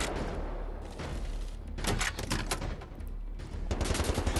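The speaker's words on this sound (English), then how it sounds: "Got a big guy shooting at us." Enemy gunfire from a large soldier in Wolfenstein: The New Order at a lunar base: a continuous, dense rattle of shots and impacts that swells and eases for several seconds, loud, with no talking.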